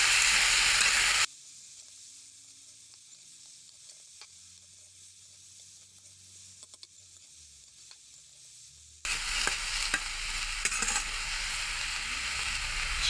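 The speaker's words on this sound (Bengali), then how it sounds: "নাড়া দিব।" Spoon stirring homemade tangy chutney in a pan on the stove, with a soft steady sizzle between louder stretches of frying hiss and scraping.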